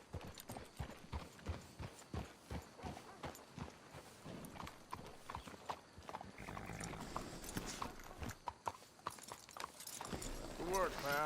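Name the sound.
horses walking in Red Dead Redemption 2 video game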